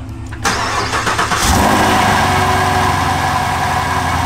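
A Camaro engine, just returned to stock from a Whipple supercharger, is remote-started, cranking and catching, then settling into a steady, loud idle close by.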